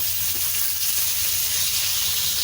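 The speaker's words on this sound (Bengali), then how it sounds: "দেখো আমি মাছটা ভাজছি" Katla fish fries in hot oil in a pan, giving a dense, steady sizzle and hiss up close with no pauses and no talk.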